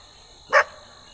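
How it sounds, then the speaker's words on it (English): A single short bark from the neighbor's dogs comes from some distance outdoors near a planted food plot, one brief yip standing out against a quiet background. "neighbor's dogs."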